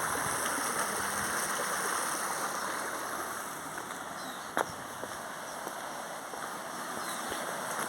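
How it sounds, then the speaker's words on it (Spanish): A pretty stream at La Rinconada flows steadily, a continuous close rushing babble of water with no voices, and one sharp click partway through. "el bonito arroyo de acá de La Rinconada"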